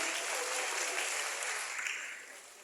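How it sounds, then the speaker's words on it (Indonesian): Audience applause for a deputy environment minister at a youth forum, a thick continuous roar of many clapping hands, moderately distant, holding steady then easing off toward the end, with no speech. "Tepuk tangan buat Pak Alu Dohong"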